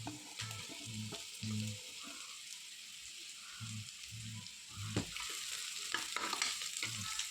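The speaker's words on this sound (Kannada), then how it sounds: "ಇವಾಗ ಫ್ರೈ ಆಗ್ತಾ ಬಂತು." Carrots frying in a pan keep up a soft, steady sizzle as a utensil stirs and scrapes through them at irregular intervals, close by with no talking.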